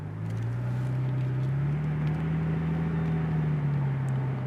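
Engine of a 2004 Porsche 911 Carrera Convertible pulling under throttle, a smooth steady hum that rises slightly in pitch, heard from inside the car without talking.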